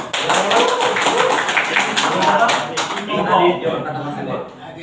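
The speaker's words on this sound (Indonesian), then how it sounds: "tepuk tangan dong, luar biasa" Audience at a religious lecture clapping steadily for several seconds, a dense close patter of hands that thins slightly toward the end, with voices mixed in.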